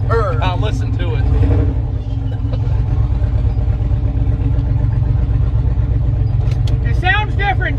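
A turbocharged Ford Ranger engine runs loud and close with a deep steady throb and rising turbo whine, while people talk over it.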